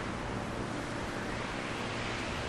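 Wind in the video game SolarPunk, steady and faint, a broad even rush with no gusts or breaks and no voices.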